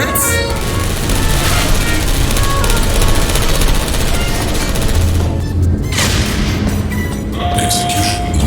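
Turrets fire in the video game Portal Stories: Mel, a dense, loud burst of rapid gunfire and mechanical clatter that runs continuously, mixed with game effects and a brief tone near the end.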